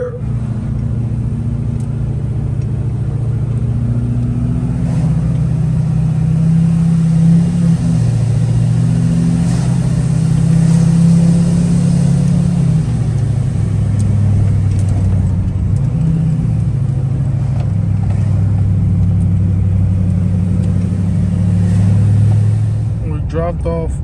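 Vehicle driving through traffic while towing an Audi S5, a steady mid-pitched engine drone that shifts in pitch as speed changes, continuous and close, with a voice over it.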